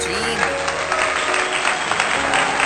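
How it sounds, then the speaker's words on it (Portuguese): Group applause at a celebration of reaching a milestone, dense continuous clapping close by with a voice talking over it. "Estamos aqui aplaudindo"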